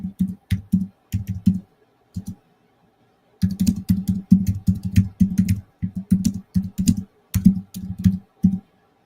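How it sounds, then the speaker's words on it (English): Bursts of typing on a computer keyboard, several quick runs of key clicks broken by short pauses, close and clear, entering a prescription during a distance healing session. "And I'm typing to give a prescription kind of thing here."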